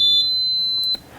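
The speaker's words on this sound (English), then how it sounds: "the beep is the indicator that the machine is on" A US Steam Eagle Plus industrial steam vacuum cleaner gives one steady, high electronic beep at power-on, close and clear, lasting about a second before cutting off.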